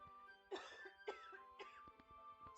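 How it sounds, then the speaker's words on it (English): Three or four quiet coughs in a row, followed by a few soft clicks, with a faint steady hum in the background. "I have to cough."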